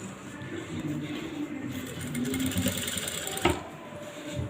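A sewing machine stitches a lace design onto a blouse, its needle chattering in a fast, steady mechanical run that stays close and moderately loud throughout, with one brief knock near the end.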